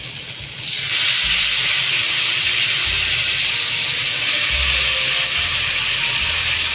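Freshly washed green leafy vegetables (shak) hit a hot pan, setting off a loud, steady hiss that starts around the first second and holds close and continuous to the end.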